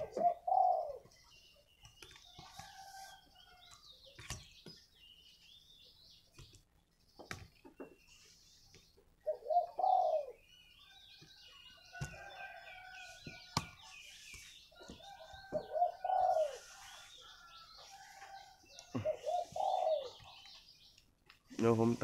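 Spotted dove cooing in the morning, repeated soft coo phrases at intervals over a quiet outdoor background with faint chirps from other birds.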